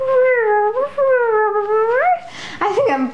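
A person imitating a cat purring with a voiced, wavering hum, close and loud, in two sustained stretches followed by a short breathy burst.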